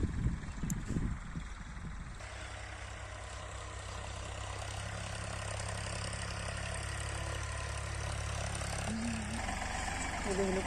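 A tractor engine runs steadily in an open field, a low continuous drone that holds at an even level throughout, with a brief voice near the end.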